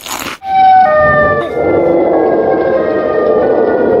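Siren Head in a horror video game lets out a loud, sustained siren wail, rising into a layered, steady droning tone that fills the scene after a brief burst of noise.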